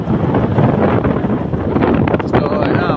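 Wind buffets the microphone in a continuous low roar while riding a motorbike toward Pokhara, loud and close throughout with no clear break.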